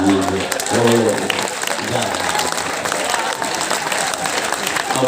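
An audience claps at a Hindi poetry gathering (kavi sammelan), steady close applause throughout, with a voice briefly heard over it at the start.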